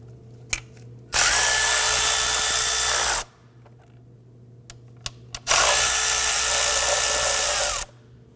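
A power tool loosens the 8mm valve cover bolts on a 2008-2011 Ford Focus, running in two loud, steady whirring bursts of about two and four seconds with quiet pauses and faint clicks between them.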